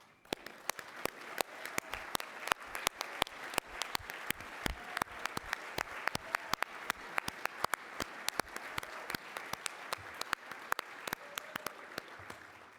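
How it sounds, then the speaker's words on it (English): An audience at a Management of Change conference claps for the volunteers, a sparse, crisp round of individual hand claps that keeps going steadily, with a few faint voices underneath. "give them a round of applause?"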